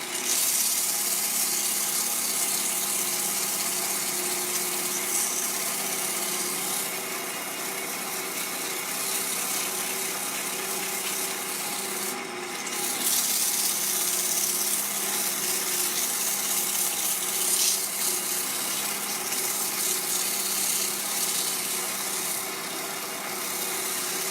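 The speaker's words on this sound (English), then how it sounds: "And it might look like I'm pushing really, really hard on the sandpaper." 120-grit sandpaper pressed against turned wood spinning on a lathe gives a steady, loud broadband hiss over a constant motor drone, unbroken for the whole stretch with no talking.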